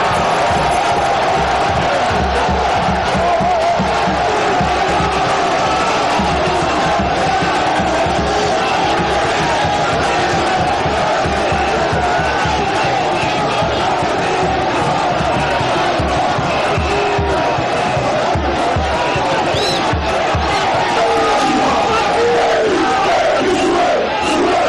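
A big crowd of Kinshasa residents roars and cheers steadily at the presidential pavilion entrance of N'djili International Airport, with dense shouting and whoops sustained throughout.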